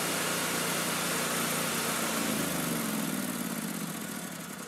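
A Kohler engine runs steadily nearby with a constant mechanical hum and drone, easing down slightly toward the end as fuel runs out, with no talking.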